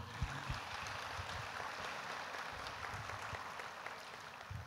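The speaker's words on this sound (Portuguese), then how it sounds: "Vamos aplaudir o Senhor." Church congregation applauding during a Sunday morning service, a steady wash of clapping that fills the space evenly and sits at a moderate, distant level without a clear beginning or end.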